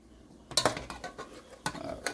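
Bacon lifted out of a cooking pot, quick clinks and scrapes of a utensil against metal in a short burst after a quiet start, close by.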